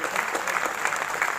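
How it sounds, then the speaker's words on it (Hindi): An audience at a poetry gathering (kavi sammelan) in Lucknow breaks into dense, sustained applause, a steady wash of many hands clapping together. "एक बार और गजब की तालियों से हम इनका"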